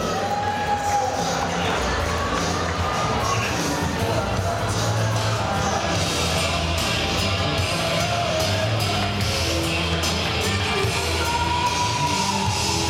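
A crowd at the FIBO Power 2015 fitness expo keeps up a steady, dense roar of applause and cheering, with scattered shouts and whoops, loud and continuous throughout with no pauses.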